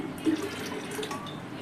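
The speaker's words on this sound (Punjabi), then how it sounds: "ਪਾਣੀ ਆਪਾਂ ਨੇ ਇੰਨਾ ਕੁ ਪਾਉਣਾ ਬਸ ਜਿਹਦੇ ਵਿੱਚ ਦਾਲ ਜਿਹੜੀ ਹੈ ਡੁੱਬ ਜਾਵੇ" Water pours into a pot of split chickpea lentils (chana dal) being readied for cooking, a soft, steady trickle and splash lasting under two seconds, fairly quiet with no talking.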